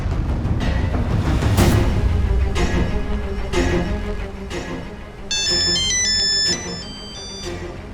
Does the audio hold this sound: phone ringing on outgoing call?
yes